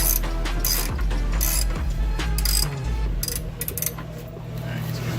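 A ratchet clicks rapidly in bursts while tightening the bolts of a Steeda lightweight strut bar on a Ford Focus, close and loud, with short pauses between runs and a faint voice in the background.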